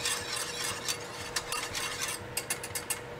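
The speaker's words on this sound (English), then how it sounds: "I am whisking this until it is a uniform consistency" A whisk scrapes and taps rhythmically against a pan as a sauce is beaten into hot fat, with soft sizzling beneath the quick, close strokes.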